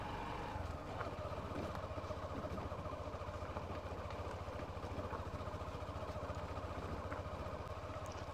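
Motorcycle on a rough off-road mountain track near Dharagiri, Jharkhand, its engine chugging steadily and close throughout, with rattling and wind noise over a continuous low drone.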